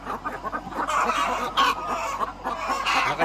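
Andijan black hens, ten months old, cluck and squabble over a laying spot, with overlapping bursts of clucking close by and no talk.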